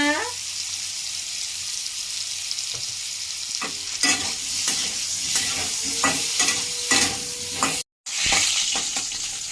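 Small potato pieces with turmeric and Kashmiri chili fry in oil for a prawn aloo curry, a loud close sizzle punctuated by regular stirring scrapes, briefly cutting out near the end before resuming.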